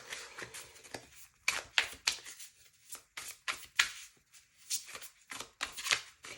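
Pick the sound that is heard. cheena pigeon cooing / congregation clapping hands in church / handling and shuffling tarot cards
handling and shuffling tarot cards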